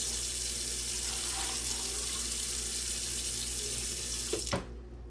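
Steady rushing water pours from a tap into a pot, a continuous splashing stream that stops abruptly near the end with a brief clunk.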